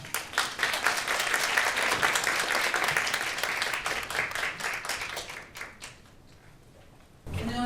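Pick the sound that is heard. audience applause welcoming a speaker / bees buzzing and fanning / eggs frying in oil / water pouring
audience applause welcoming a speaker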